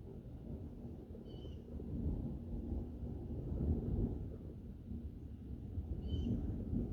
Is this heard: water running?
no